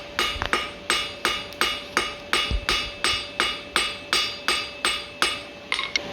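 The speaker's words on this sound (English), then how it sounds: "I come straight down with my hammer blows to try and get a bit of spread" A blacksmith's hammer strikes hot steel squarely to spread a forged leaf shape, about a dozen loud, evenly spaced ringing blows in a steady rhythm, close and alone.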